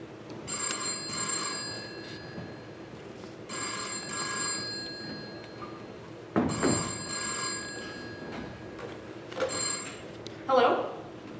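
An old-fashioned telephone bell rings in repeated bursts, several clear trilling rings spaced about three seconds apart on a school stage, with some movement and a brief voice near the end.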